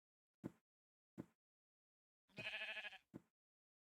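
A sheep in the video game Minecraft bleats once in a short wavering call, set among quiet footstep-like thumps, close and clear.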